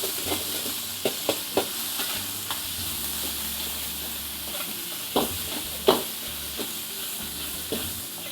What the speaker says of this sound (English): then just cook the curry paste in the oil first